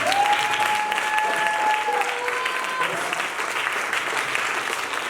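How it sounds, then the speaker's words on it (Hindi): Loud, sustained applause from an audience at a talk on developing a wealthy mindset fills the room evenly throughout, with a thin whistling tone drifting over the clapping early on. "जोरदार तालियां।"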